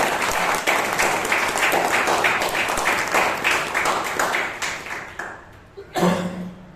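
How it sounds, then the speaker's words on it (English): Applause from a Toastmasters club meeting audience in Bangalore, a dense steady patter of many hands clapping close by for about five seconds, then thinning and fading, with a short low voice or thump near the end. "Let's hear a big round of applause"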